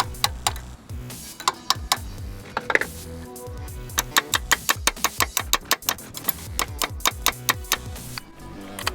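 A hammer taps an 18mm bolt into a worn motor mount on a Jeep XJ. A long run of sharp metallic knocks comes close and fairly quiet, with uneven rhythm that quickens toward the end.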